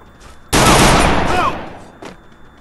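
A single loud, close burst of rapid gunfire in Free Fire, a video game, lasting about a second before fading into quieter game sounds.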